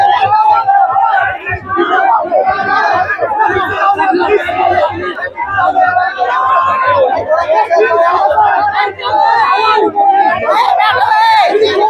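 A crowd of young protesters gathers at Jantar Mantar in Delhi. Many voices chatter and overlap in a loud, continuous babble, with occasional shouts rising above it.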